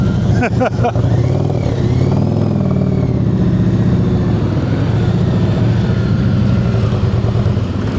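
Motorcycle engine droning steadily at low speed during advanced slow-speed riding practice in Georgia, loud and close with the throttle held on, while a voice talks over it near the start.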